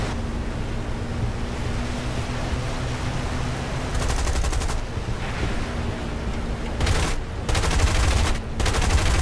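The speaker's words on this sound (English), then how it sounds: "Ooh, that 50 cal sounds good." Browning .50 cal machine guns firing in the War Thunder video game, heard as loud bursts of rapid fire in short strings over steady wind-like engine rumble, several bursts toward the end.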